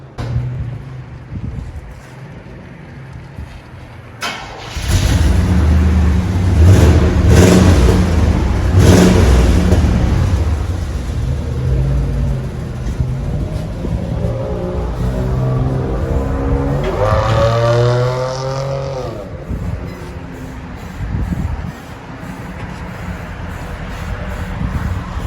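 A 1997 Chevy Silverado with a 5.7L V8 and 18-inch MagnaFlow muffler idles low, then revs up loudly and holds a steady rumble, with a rising rev sweep near the end; no talking.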